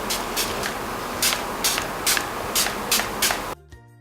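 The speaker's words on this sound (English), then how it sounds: "For the final spraying, I'm going to be using the YangaBeauty Set to Go makeup setting spray" Yanga Beauty Set to Go makeup setting spray is misted onto a face in a series of short, rhythmic hissing bursts, close and fairly loud over a steady background hiss, ending abruptly.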